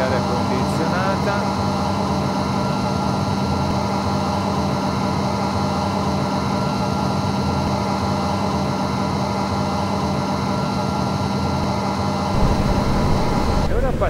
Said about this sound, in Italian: Ancora aria condizionata, dispositivo di aria condizionata.